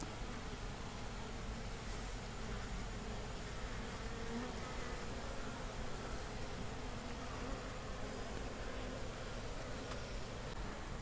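Wild honey bees swarm at their hive, a dense, steady buzzing drone that holds without a break throughout, loud and close, with no voices over it.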